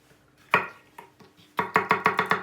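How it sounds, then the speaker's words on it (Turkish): A knife chops carrots finely on a cutting board, a few scattered strikes followed by a quick run of six steady chops, close and crisp with no talking. "Havuçları ince doğrayacağız."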